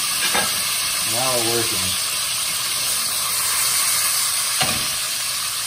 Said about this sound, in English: Throw in the cherry tomatoes, right there.